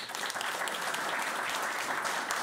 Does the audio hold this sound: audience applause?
yes